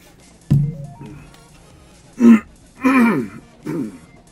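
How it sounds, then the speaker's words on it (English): A man repeatedly clears his throat, several short rough bursts spaced a second or so apart, close and fairly loud with quiet gaps between. "I gotta keep clearing my throat"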